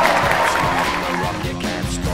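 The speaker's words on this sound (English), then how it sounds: "Aw, come on, people, I need some applause too." Crowd cheering and applause in a Dead Space machinima news segment, a busy mix of whoops, shouts and clapping that sounds close and lively, with voices tangled in the noise.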